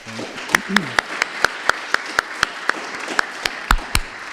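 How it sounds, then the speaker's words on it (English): Sparse applause from a conference audience honouring a panel of speakers at a European universities event, a dozen or so distinct claps at a steady rhythm over faint background murmur. "another big round of applause maybe for all of the speakers"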